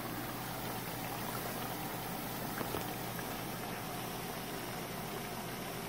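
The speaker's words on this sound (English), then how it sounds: "We're deep frying and that's what we're doing there." Steady bubbling sizzle of fish and fries deep frying in hot oil, a constant dense crackle with no pauses, fairly close.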